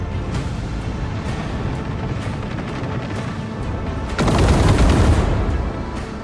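Shots ring out in the Rogue Trader video game as a rapid, steady stream of gunfire bursts. Near the end a louder, denser volley swells up briefly and then eases back.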